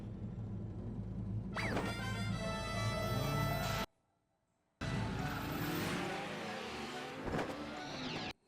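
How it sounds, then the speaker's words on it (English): A cartoon clown car drives with tires squealing, a loud, sustained engine and screech that runs several seconds, stops abruptly, then resumes with skidding and revving before cutting out. "Oh no, it's a clown car."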